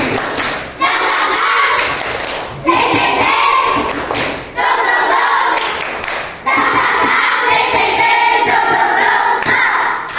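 A class of students performs a rhythmic spirit clap in a classroom, loud bursts of group clapping and chanting in repeated phrases with brief pauses between them.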